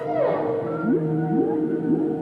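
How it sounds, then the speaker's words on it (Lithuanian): Whales singing to attract a mate: long, moaning tonal calls that swoop upward and fall in repeated phrases, clear and resonant with no voices over them. "Norėdami suvilioti patelę, banginiai dainuoja."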